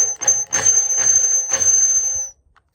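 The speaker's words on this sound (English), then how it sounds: "drill bit, it's not sharp enough anymore" A high-pitched power drill with a dull bit whines in short repeated bursts, grinding as it bores through the gel coat of a Mitzi Skiff 17 boat, then stops.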